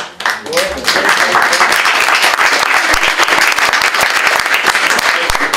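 Loud, sustained applause from a conference audience fills the room, dense clapping continuing steadily after a brief rise at the start.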